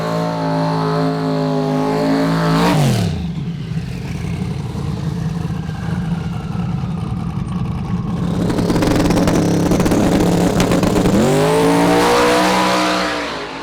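A drag race car roars down the track at Sick Week, engine screaming loud and close through a long sustained run, with a sharp rising rev at the start and another surge near the end.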